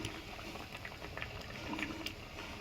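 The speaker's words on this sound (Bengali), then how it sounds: "ধনেপাতা দিয়ে একবার ফুটিয়ে নেব" Pumpkin and egg curry with chopped coriander simmering in a pot, a steady soft bubbling hiss with faint pops, low and continuous with no voices.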